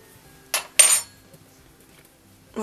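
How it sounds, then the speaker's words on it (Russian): A fork presses and seals the edges of dough for fried curd-filled dumplings, scraping and tapping against a dish in two quick bursts, then another short clink after a quiet gap; close and crisp. "Теперь для верности все-таки мы пройдемся вилкой."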